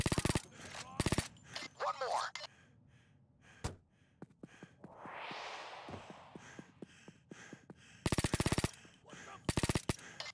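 Gunfire in the heist game Payday 2 comes in loud rapid bursts between single sharp shots and quieter stretches of breathing and faint noise, with a brief spoken line in the middle.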